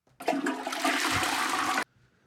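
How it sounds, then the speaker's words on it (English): A toilet flushes in one loud, steady rush of water lasting about a second and a half, then cuts off abruptly into near silence, close by and with no voices over it. "Let's toilet flush."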